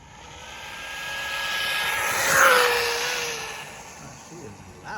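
A Losi NASCAR RC car with an upgraded Spektrum brushless motor runs past, its high whine swelling from far to near and fading away again, with a voice briefly audible.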